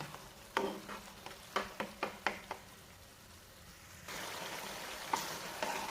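A simmering homemade glutathione cream and oil mixture gets stirred in a pan, a spoon scraping in a string of quick, regular strokes over a faint sizzle that grows into a steady, louder bubbling hiss near the end.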